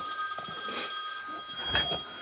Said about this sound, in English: That'll be the phone there.